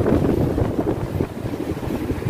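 Steady wind buffeting the microphone on an island shore at Bermuda's Dockyard, a low continuous rumble with gusty swells, loud and close, no voices.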